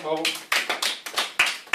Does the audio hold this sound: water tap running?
no